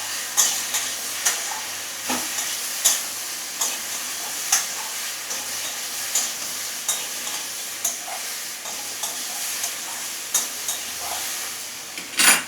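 Vegetables with ginger and sugar are stir-fried in a pan for a Bengali shukto. A steady sizzle runs underneath, broken by a sharp scrape of the spatula roughly every second.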